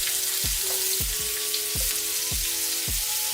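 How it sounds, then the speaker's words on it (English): Yellow bell pepper and fresh onion sizzling in a very hot pan, a loud continuous frying hiss with regular low thumps and faint tones recurring about every half second, no talk. "And you see our pans are really hot. You wanna get that good sizzle."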